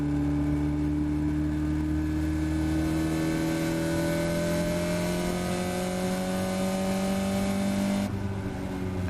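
A Caterham race car driven around the Silverstone Grand Prix circuit, its engine droning loud and close with pitch climbing steadily under acceleration, then dropping suddenly near the end as the driver shifts or lifts off.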